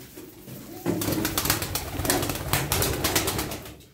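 Pigeons coo softly and repeatedly close by, with rustling and fluttering wings mixed in.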